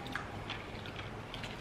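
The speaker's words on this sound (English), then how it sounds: "Okay, I'm gonna have a buttermilk wing." Someone bites and chews a crunchy buttermilk fried chicken wing close up, with repeated moist crunching and soft squishy bites and no talking.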